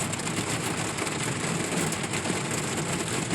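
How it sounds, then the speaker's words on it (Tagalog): Steady rain patters on a parked car while someone sleeps inside, a dense continuous hiss of drops heard from within the vehicle throughout, with no talking. "Maririnig mo yung patak ng ulan."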